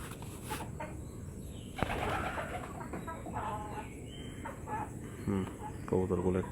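Domestic pigeons stirring awake in a small home coop give soft low coos, with a brief flutter of wings and faint bird calls around them against a constant background hiss.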